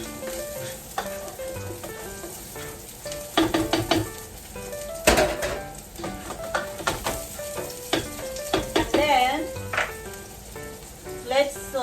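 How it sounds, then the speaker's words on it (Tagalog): Onion sautés in a hot pan for a pork rib and green tomatillo dish, a continuous sizzle broken by clanks and scrapes of stirring and utensils against the pan, close and fairly loud. "And then let's saute the onion."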